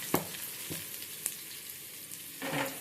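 Garlic dropped into hot oil for a tempering with urad dal gives a faint, steady sizzle, broken by a few light taps of a spoon and a brief louder rustle near the end.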